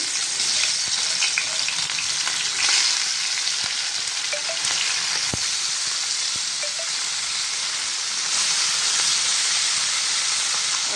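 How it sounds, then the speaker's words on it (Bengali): Morola fish sizzle in a hot wok: a loud, dense frying hiss close by, with faint clicks and small pops over a steady bed of sizzle and no speech. "কড়াই গরম হয়ে গেছে এবার আমি দিয়ে দেবো একে একে মাছগুলো"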